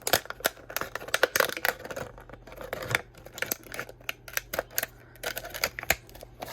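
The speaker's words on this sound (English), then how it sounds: "Cut a little hole right here, so that way you can cut around." Scissors snip through a plastic bottle, first cutting a small hole to work around the base, giving a rapid series of sharp, close crisp clicks and crunches with no talking.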